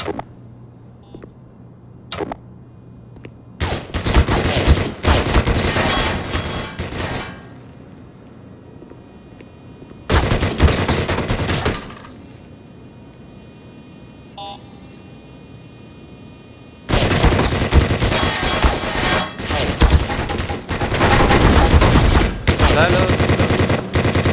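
Enemy gunfire in the video game Black Mesa (Half-Life) comes in loud, dense bursts of rapid shots, separated by quieter stretches of low electronic hum and a few beeps.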